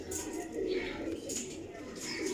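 Soft cooing of pigeons kept by a breeder, low and close, with a few murmuring calls overlapping in a quiet setting.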